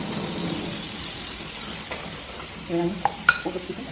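Masala spice paste frying in a pan for pabda fish curry, a steady close sizzle with occasional stirring scrapes and a few clinks of a utensil toward the end.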